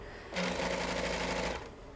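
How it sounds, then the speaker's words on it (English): A sewing machine runs a zigzag stitch on stretchy fabric for a hoodie, a close, rapid whirring hum that starts, holds steady for over a second, then stops. "if you don't have a serger at home, it's totally fine to use a sewing machine"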